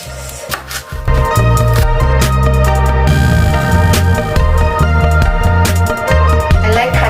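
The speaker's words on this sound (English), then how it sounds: "I like it finely chopped." A knife finely chopping onions on a cutting board, rapid steady knocks close up under loud background music, with a brief pause midway before the fast chopping resumes.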